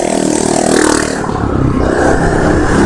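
A motorcycle rides along a street in Phú Nhuận, Saigon, its engine a steady, loud, close drone with some rattling clatter and surrounding traffic noise, with no talk.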